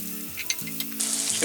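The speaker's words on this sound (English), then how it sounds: "our bacon is crisping up nicely" Bacon crisps in a hot pan with a steady close sizzle and crackle that swells louder toward the end of the brief moment.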